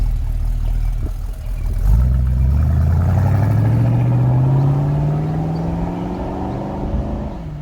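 A 1973 Ford XA GT Falcon accelerates hard from a takeoff. After a brief idle, the engine note climbs in one long, loud, close pull and then dips near the end, with no talk.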